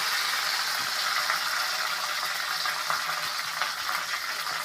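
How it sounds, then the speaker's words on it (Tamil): Curry leaves and chopped onion frying in hot oil with spluttered mustard seeds for a quick home-style kuzhambu, giving a steady, close, hissing sizzle with faint crackles throughout and no speech. "கடுகு வந்து நல்லா பொரிஞ்சு வந்த உடனே கருவேப்பிலை, வெட்டி வச்ச வெங்காயம்"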